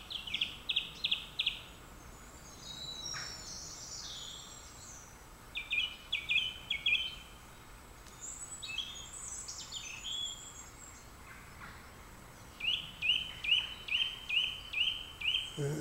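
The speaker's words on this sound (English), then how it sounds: "That bird has got a vast array of calls." Birds call along a disused railway trail in the countryside, repeated bursts of quick, high chirping notes separated by short pauses, moderately distant over a soft outdoor hush.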